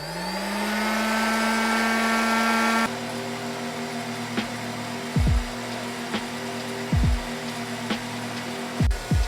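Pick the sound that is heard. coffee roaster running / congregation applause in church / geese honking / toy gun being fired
coffee roaster running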